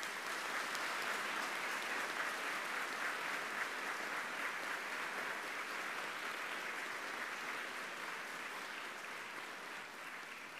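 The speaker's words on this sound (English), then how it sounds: "Let's give them all a round of applause." Sustained audience applause for graduating students at a college graduation ceremony, a dense, even roar of many hands clapping that holds steady and eases slightly toward the end.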